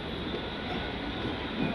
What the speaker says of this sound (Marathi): 12:53ची गाडी निघून पण गेलेली आहे